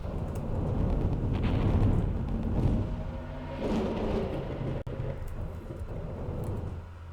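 Spaceship launching missiles in the space game Endless Sky, heard as a dense rumbling roar of engine and weapon noise that swells and fades over several seconds, with a sharp click midway.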